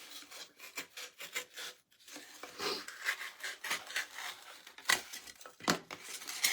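A blade scrapes and rasps through stiff foam board, cutting out a heart shape in short irregular strokes, with small pauses between cuts, close and fairly quiet.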